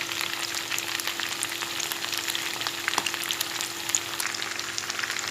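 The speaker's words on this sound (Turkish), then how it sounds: "Evet, kızartmaya devam ediyoruz" Steady crackling sizzle of food frying in hot oil, with dense popping spatters, close and continuous throughout.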